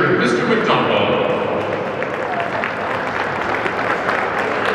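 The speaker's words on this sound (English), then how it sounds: "let's have a nice round of applause for our student manager, our cheerleaders, our players, and especially their favorite teachers" A crowd at a high school hockey event claps loudly and steadily in a large, echoing hall, the dense applause running the whole time while an announcer's amplified voice carries over it.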